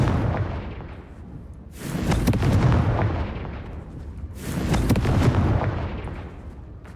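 Confringo fire curse spell explosions in Hogwarts Legacy, two heavy booming blasts a few seconds apart, each swelling and rolling off into a long rumbling tail, loud with no talking.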